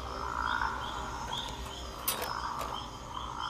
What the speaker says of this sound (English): a male rocket frog